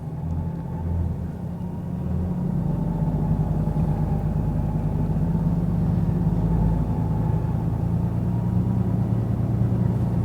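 A truck engine idles with a low, steady rumble and drone while an X-Bull 13000 lb winch pulls a load, heard close and continuous without talk.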